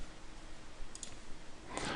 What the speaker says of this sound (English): all I'm doing is double clicking on the text